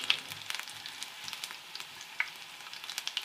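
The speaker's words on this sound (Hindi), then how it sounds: "लहसुन हमारा बहुत अच्छा सा गोल्डन फ्राई हो गया है देखें, और हरी मिर्ची भी जो है ना वो तड़क गई हैं" Garlic, cumin and green chillies sizzle and crackle in hot ghee for a dal tadka, a steady close frying hiss scattered with sharp pops and spits throughout.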